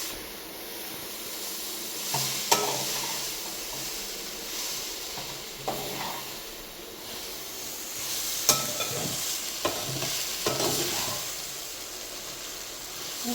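Millet noodles and vegetables sizzle softly as they are stir-fried in a wide pan, with a steady hiss broken by occasional scraping and clinking of the spatula.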